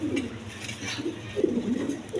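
Pigeons cooing in a loft among birds kept for sale, including a white male and a black female, with several low throaty coos rising and falling nearby, repeated in soft bursts.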